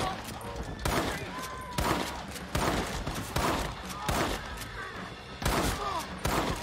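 Repeated gunshots in a Red Dead Redemption shootout, loud sharp bursts in quick clusters roughly every second, separated by brief gaps, with no speech over them.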